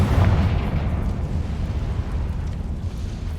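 A Confringo fire spell blast in the Hogwarts Legacy video game, a loud booming burst right at the start that rolls into a dense, rumbling roar and fades slowly.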